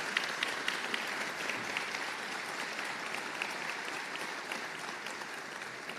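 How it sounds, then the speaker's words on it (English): A university convocation audience applauds students in a steady, moderately distant roll of clapping that holds evenly throughout, with no talking over it. "give a round of applause to the UVI students"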